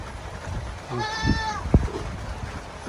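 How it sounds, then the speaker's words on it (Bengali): A goat bleats once, a short wavering cry over a low background hiss, followed by a brief thud. "এই ছাগলটা তো মেয়ে মেয়ে করতেছে"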